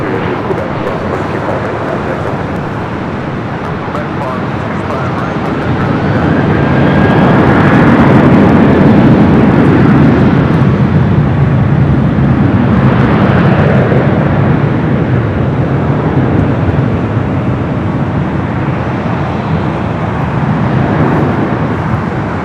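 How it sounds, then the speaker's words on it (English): An airliner arriving from Singapore rumbles in on approach at a busy airport, a broad steady roar that swells around the middle and then holds loud with no voices. "Second one coming in straight from Singapore."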